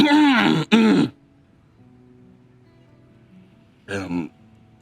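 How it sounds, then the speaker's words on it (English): A short gruff throat-clearing burst, close and fairly loud, then a pause and a brief second rasp. "I'm clearing my throat."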